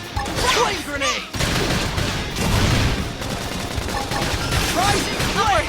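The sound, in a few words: flame grenade explosion in video game Xenoblade Chronicles X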